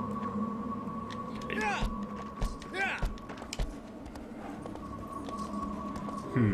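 Scattered horse hoof knocks on stone in Shadow of the Colossus, a few sparse clip-clops under a steady electrical hum, with a voice talking over them and a warbling cry rising in between.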